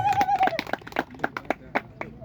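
A small gathering claps for a man named Moses at a community event, a loose run of uneven hand claps mixed with talking and laughter.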